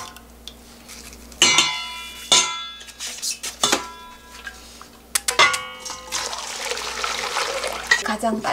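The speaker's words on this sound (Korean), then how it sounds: "가장 빨리 식히는 방법은 자, 이렇게 건져서 찬물을 조금 부어주면 되겠죠." Cold water is poured over boiled mudfish for Gyeongsang-style mudfish soup, with close clinks and knocks of the fish being lifted out, then a bright splashing pour toward the end.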